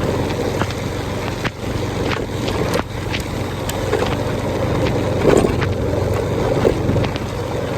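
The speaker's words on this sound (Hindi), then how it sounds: "बहुत हवा चलता है यहाँ पे।" Strong wind buffeting during a ride in rainy weather on Katchal: a continuous broad roar of rushing air with gusty swells and occasional thumps, steady and loud throughout with no speech.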